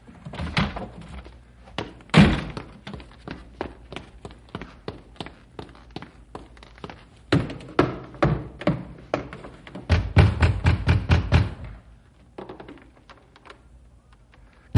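Knocking on a door in an old radio drama at night, heard as several bursts of sharp, fairly close raps, some loud and rapid, separated by quieter pauses.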